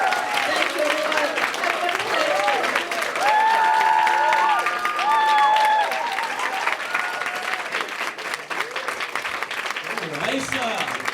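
A comedy club audience applauds and cheers for comedian Raissa Simone after her set, dense clapping with whoops and shouts rising over it, while voices carry on through the din.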